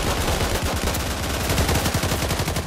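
Rapid, sustained machine gun bursts in the World War II shooter Days of War, a dense continuous rattle of close, loud gunfire with no pause across the short stretch.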